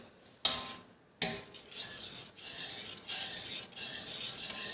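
A spoon scrapes and stirs papaya payasam in a pan, two sharp clanks at the start followed by softer, repeated rubbing strokes.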